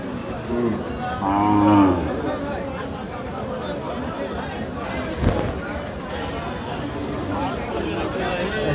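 At a cattle market in Dinajpur, a cow gives a single short moo near the start, amid the chatter of a crowd and someone talking nearby.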